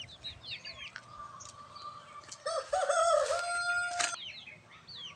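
Chickens call around a rooster that lets out one loud, close crow in the middle, with clucks and chirps before and after and no talking.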